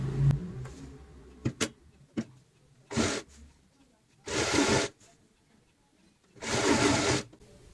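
A sewing machine stitches a pillow cover in three separate bursts of fast mechanical whirring, each lasting about a second, with soft handling noises and quiet pauses between them.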